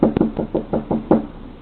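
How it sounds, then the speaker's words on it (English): A man knocks on a front door, picked up by a doorbell camera: about seven quick, hollow raps in a steady rhythm, close and fairly loud, with a slightly muffled, narrow-band quality and no speech. "Things proceed to get worse as the man starts knocking on the door, repeating himself."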